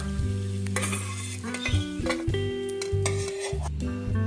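Cashews and raisins frying in a pan, a bright sizzle mixed with metallic clinks and scrapes of a utensil against the pan, close and steady with no talking.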